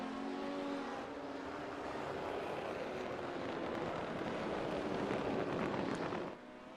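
Sim racing cars at Spa run a steady, loud engine drone that swells slightly as the pack comes around, then drops off abruptly near the end.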